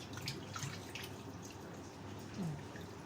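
Raw chicken pieces being rinsed under a running kitchen tap, a faint steady wash of flowing water with a few small splashes and drips, close by.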